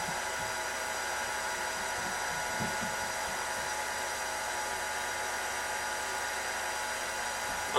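A KitchenAid stand mixer drives a pasta roller attachment at a mid speed setting, giving a steady whirring motor hum that runs alone, close and constant.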